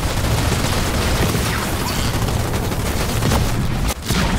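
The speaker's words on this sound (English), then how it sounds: "Jerome, just under fire from ground troops!" Dense, loud gunfire from ground troops in the video game Halo Wars 2, a continuous fusillade of overlapping shots and booms with no break, battle noise filling the whole stretch.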